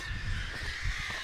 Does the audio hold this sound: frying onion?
no